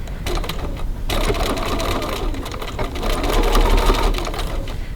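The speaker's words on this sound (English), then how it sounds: "we're going to stitch the bottom seam on our second exterior body piece" A sewing machine runs steadily at short stitch length, sewing the bottom seam of a fabric cross-body bag's exterior piece, with a rapid mechanical chatter, one brief pause, then continuous stitching.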